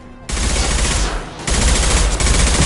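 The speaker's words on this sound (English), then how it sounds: "Firing concussive shot." Concussive shot firing in Mass Effect 2, heard as a sustained, loud burst of gunfire-like blasts that dips briefly, then resumes and continues to the end, with no talk.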